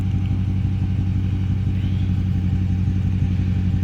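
A 2016 Dodge Charger R/T fitted with Borla Pro XS mufflers idles with a deep, loud, steady V8 burble and a rapid low pulsing rhythm, close by and constant throughout, with no voices.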